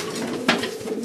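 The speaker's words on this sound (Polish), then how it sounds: "Gołubuszki tu czekają do wpuszczenia." Racing pigeons in a loft of a Polish pigeon-racing club give soft, low cooing murmurs against a busy, noisy background, with one brief sharper clatter midway.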